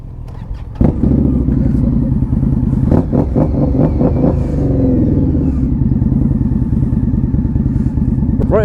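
Two motorcycles, a Kawasaki Z900 and a 2006 Yamaha R6, idle and rev close by, a loud steady engine drone with throttle blips and rising pitch sweeps, plus a clunk near the start.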